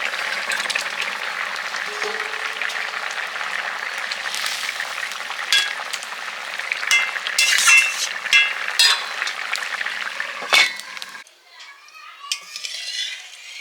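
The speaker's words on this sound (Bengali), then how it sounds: "এবার ভাজা মাছগুলো দিয়ে দেবো" Fried snakehead fish pieces go into a boiling ridge gourd curry and are stirred, making a steady close sizzle and bubbling hiss with scattered utensil scrapes and clinks that fall quieter near the end.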